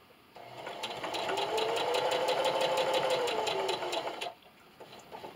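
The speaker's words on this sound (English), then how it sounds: "And continue to sew" A sewing machine loaded with red thread stitching fabric in one continuous run of about four seconds, a fast, even, rattling whir that starts and stops abruptly, close and fairly quiet.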